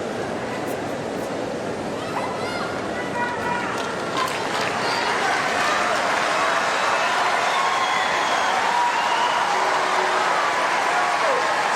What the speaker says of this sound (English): So huge roar. The crowd want more tennis.